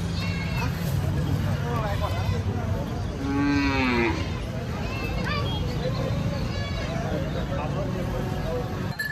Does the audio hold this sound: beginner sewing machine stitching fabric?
no